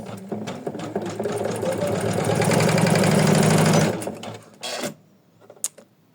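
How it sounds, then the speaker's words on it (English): Embroidery machine stitching a bunny design at high speed, a loud rapid mechanical whirring and clatter for about four seconds, then stopping, followed by a few faint clicks. "Maybe I need to slow down my machine."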